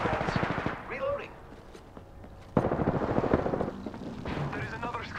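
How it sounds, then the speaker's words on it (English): Rapid gunfire from Apex Legends gameplay bursts in close, sharp volleys, with a pause midway before another dense stretch of shots, mixed with game voice lines and effects. "I am taking fire, friends"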